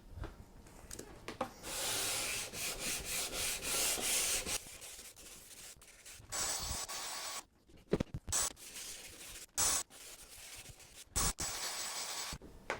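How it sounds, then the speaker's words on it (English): A 220-grit sanding block rubs back and forth over a wooden speaker cabinet in steady, raspy strokes, close by, with short pauses between passes. "this again is going to be 220 grit on the sanding block"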